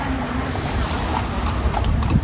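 Horses clip-clopping along a busy street in Marrakesh, Morocco, soft repeated hoofbeats under steady traffic and street noise, moderately distant.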